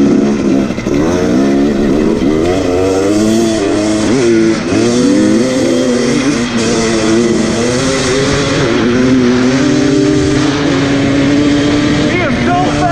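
A 2017 KTM 250 XC two-stroke dirt bike engine revving loud and close, its pitch rising and falling through gear changes, with the tone nearly steady toward the end.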